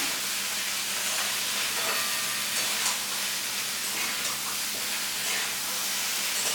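Bitter gourd and potato pieces frying in a pan at low to medium heat, giving a continuous close hiss and sizzle that stays steady throughout, with no talking.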